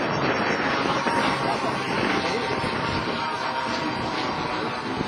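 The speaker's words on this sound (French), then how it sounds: "Écoutez le bruit, la symphonie des quatre moteurs." A loud, steady roar from a four-engine Douglas DC-4 propeller airliner fills the air as it passes low and close, the broad drone holding for several seconds.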